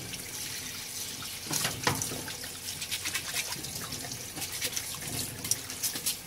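Fish being washed under running water at a sink, with a steady gush of tap water, splashing and brief sloshes as the fish is handled, close and continuous, no speech.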